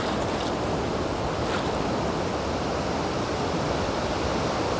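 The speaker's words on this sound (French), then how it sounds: "C'est le ressac, c'est la mer qui prend," Steady, broadband roar of sea surf on a beach at a surfcasting spot, waves surging and receding in a continuous wash with no voices.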